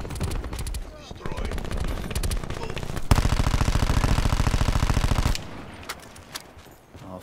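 Rapid automatic gunfire from Call of Duty Black Ops 4 multiplayer, with a sustained burst of close, loud machine-gun fire in the middle and scattered shots before and after, layered under game noise and occasional talk.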